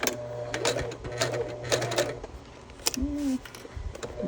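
Short bursts of sewing machine stitching as a bag seam is back stitched, choppy mechanical clicks and whirs stopping and starting at close range.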